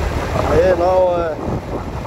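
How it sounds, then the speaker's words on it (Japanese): Strong wind buffeting the microphone while riding a Super Cub 90 motorcycle on a road, a constant low roar with a brief voice over it. "風が強いんですよ。"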